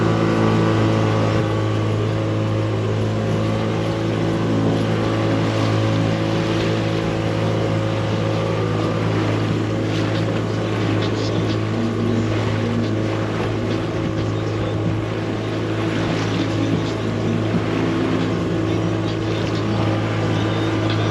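Jet skis run on the sea off Nyali Beach in Mombasa, their motors making a loud, continuous droning whine that holds steady and close the whole time.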